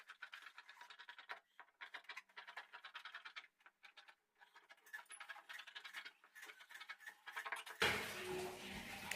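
Scissors cutting blouse lining fabric close by, a run of crisp, rhythmic snips with short pauses, then a louder rustling handling noise at the end, no talk.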